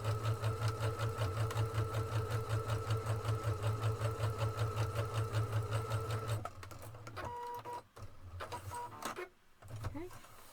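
A PFAFF creative 1.5 domestic sewing machine stitches a fabric seam in a steady, rapid mechanical chatter for about six seconds, then stops; faint handling noises and brief voices follow.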